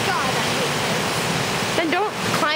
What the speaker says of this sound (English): There's the beautiful waterfall.